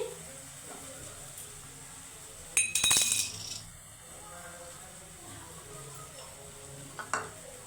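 Raisins drop into hot oil for a Bengali bhola fish tel jhal, bursting into a short, sharp sizzle with metallic clinks that fades within a second, followed by a quieter stretch, another brief clatter and a voice speaking softly around it.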